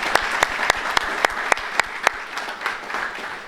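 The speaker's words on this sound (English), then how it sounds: "round of applause for my honors students" Applause for honors students at a university psychology undergraduate honors and awards ceremony, a steady wash of clapping with several sharp individual claps standing out, fading slightly toward the end.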